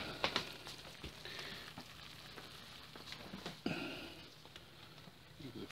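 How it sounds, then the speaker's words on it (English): Bacon fries in a pan on a wood stove, a soft continuous sizzle with scattered crackles and pops, quiet and close, with a little sniffing and faint movement. "See, the bacon's frying."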